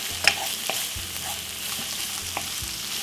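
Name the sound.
sautéing Jamaican breakfast ingredients in a pan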